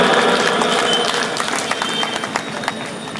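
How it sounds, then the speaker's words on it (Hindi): Loud crowd applause at a political gathering, a dense roar of clapping with some sharper individual claps standing out, gradually easing slightly as it continues. "कृपया एक बार जोरदार तालियां"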